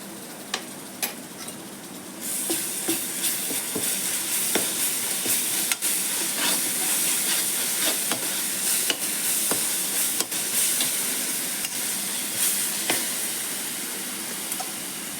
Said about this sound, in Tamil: வெங்காயம் நல்லா வதங்கிடுச்சு இந்தமாரி எண்ணெய் பிரிஞ்சு வர நேரத்தில் கொஞ்சம் இஞ்சி பூண்டு போட்டுக்கலாம்